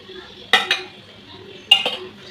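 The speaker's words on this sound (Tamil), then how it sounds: "கொஞ்சமாக ஆயில் ஸ்ப்ரெட் பண்ணிக்கலாம்." Metal utensil scrapes and clinks against a pan while oil is spread for Korean potato pancakes, two quick pairs of sharp contacts over a faint background hum.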